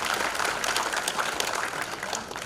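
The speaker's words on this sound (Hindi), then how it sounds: "अगर ताली बजाना है तो जोर से बजाइए" Audience at a Rotary district conference clapping loudly and continuously, a dense close burst of applause that tapers slightly toward the end.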